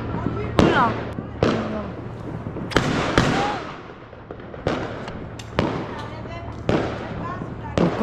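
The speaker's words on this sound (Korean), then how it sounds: "폭죽 터지고 있어." New Year's fireworks burst in a neighborhood on Zakynthos, Greece, a string of sharp loud bangs at irregular intervals, some near and some farther off, with people talking and cheering between the blasts.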